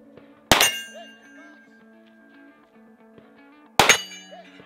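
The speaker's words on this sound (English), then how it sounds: "draw your pistol, and engage the first steel target" Two pistol rounds strike a steel target at a shooting competition stage, each a sharp ringing clang with a brief metallic decay, spaced about three seconds apart, with faint background noise between them.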